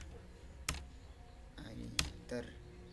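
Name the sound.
typing on a computer keyboard, pressing Enter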